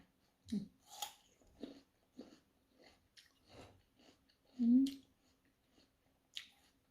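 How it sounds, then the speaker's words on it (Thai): A crispy imported snow lotus snack is snapped apart by hand up close, giving a scattered series of small, sharp cracks and crunches separated by quiet pauses. "เสียงหัก มันกรอบจนว่าหักได้ง่าย"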